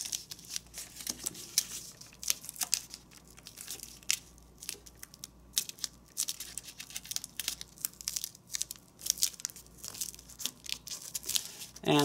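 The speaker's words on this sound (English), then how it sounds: "let's fold this corner to the midpoint" A sheet of paper being folded for an origami gauntlet, with soft crinkles, creasing scrapes and crisp little crackles coming in irregular bursts, close and fairly quiet.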